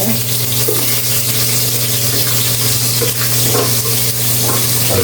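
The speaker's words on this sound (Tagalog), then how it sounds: "inukuna kong ginigisa yung bawang" Garlic sizzles steadily in hot cooking oil in a pan, a dense continuous frying hiss with faint stirring clinks, close and loud throughout.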